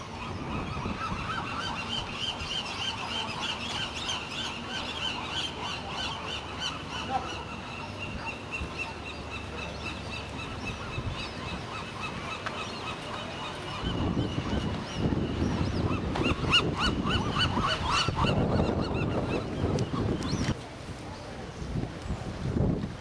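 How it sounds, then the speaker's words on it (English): Young seagull at Alcatraz calling in a run of repeated honking cries over steady wind and open-air background noise, with louder bursts in the latter half. "Baby seagull."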